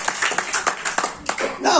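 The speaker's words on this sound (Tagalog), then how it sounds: "Malakas na palakpak sa Diyos." Church congregation clapping, with sharp, uneven bursts of hand claps mixed with voices speaking and calling out over them.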